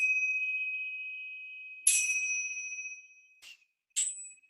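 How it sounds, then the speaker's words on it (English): Chimes struck in a kids yoga class, three close, bright ringing tones, the first two sustaining and fading, the last quicker, against silence. "So here you're gonna hear 3 chimes"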